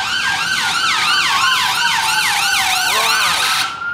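Ambulance siren wailing loudly near a busy London ambulance station, repeated rising-and-falling sweeps overlapping close by, fading at the end.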